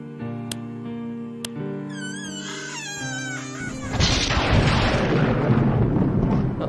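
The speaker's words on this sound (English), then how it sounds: "Stock lightning noise" A stock lightning effect in the horror video game Days Under Custody, a sudden loud crackling roar that bursts in after quieter game tones and sustains as a dense rumble.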